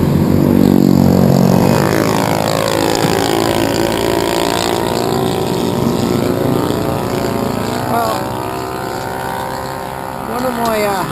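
Several enduro motorcycles ride past close by in a loud, continuous engine roar that rises and falls with sweeping pitch changes, with someone talking over the noise.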